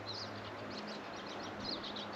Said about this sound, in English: Sound of birds.